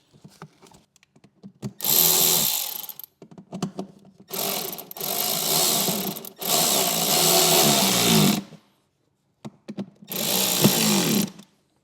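A power tool drives fine machine screws into a speaker install on a 2017 CVO Street Glide motorcycle, giving four separate whirring bursts of about one to two seconds each, with faint clicks between them.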